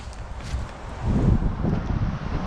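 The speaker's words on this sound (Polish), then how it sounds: "jest silny wiatr" Strong wind at a house construction site buffets the microphone with a low, continuous rumble that swells louder midway, no voices present.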